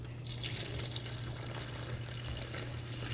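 Water pours steadily over a sourdough levain made with 30% whole wheat flour, a continuous close splashing rush with a low hum beneath, no talking.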